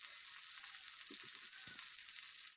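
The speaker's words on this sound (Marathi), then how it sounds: "या कांद्याचा कलर ट्रान्सपरंट होईपर्यंत सतत हलवत आपल्याला व्यवस्थित परतून घ्यायचा आहे." Finely chopped onion sautés in hot oil with whole spices, giving a continuous soft bright sizzle with a few quiet scraping stirs of the spoon; no talking.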